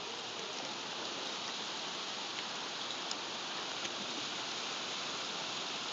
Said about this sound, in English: This is the worst rain we've had since like what? Holy, how much is coming down?